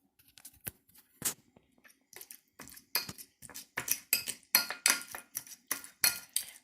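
A fork mashes potato filling in a bowl with a series of sharp scraping clicks against the dish, sparse at first and then quicker and louder in a rhythmic run, close up with no talking.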